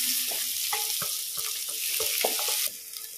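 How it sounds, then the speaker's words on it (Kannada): Cashews, onion and curry leaves frying in a pan for a village-style mutton curry, a steady close sizzle with spatula stirs and clinks, then dropping slightly quieter near the end, no speech. "ಗೇರು ಬೀಜ ಇದನ್ನು ಸ್ವಲ್ಪ ಫ್ರೈ ಆಗಿ ಗೇರು ಬೀಜ ಈರುಳ್ಳಿ ಮತ್ತೆ"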